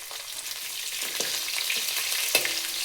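Crushed garlic, curry leaves and cumin tempering in hot coconut oil for raw jackfruit palya, a steady close sizzle with occasional soft scrapes of stirring and no talk.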